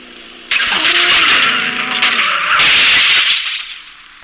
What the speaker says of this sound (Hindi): ड्रिफ्ट बहुत अच्छी तरीके से देता है